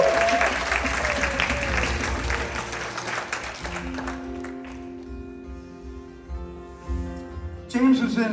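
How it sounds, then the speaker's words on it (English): A concert audience at a live tribute show applauds the sound man, a dense burst of clapping and cheering that thins out midway into quieter stage sounds, with a sharp clatter near the end. "Let's give our sound man a great big round of applause."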